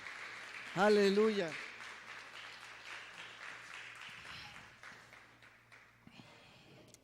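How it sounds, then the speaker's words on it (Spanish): A church congregation claps together after a voice shouts out loudly, and the applause goes on as a broad patter that gradually fades and thins toward the end. "Vamos a darle un gran aplauso al Rey de Reyes y Señor de Señores."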